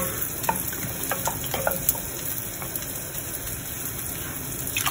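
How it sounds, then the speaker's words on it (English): Italian chopped tomatoes sizzle in a pan for a sauce with cooked onions, a loud, steady frying hiss close by with some stirring clicks and scrapes, and no talking. "I will put the Italian chopped tomatoes in this. Make this sauce."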